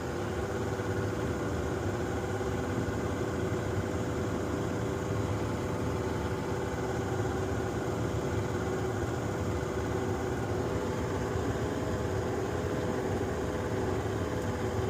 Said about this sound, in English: that's the revving sound that you're hearing. If that motor is dying, that's what it could be.